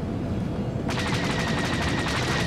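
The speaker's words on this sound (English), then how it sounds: "Excellent shooting." Starfighter weapons fire in Star Wars: The Old Republic, a rapid, steady stream of loud shots that begins abruptly after a moment of rumble and keeps going to the end.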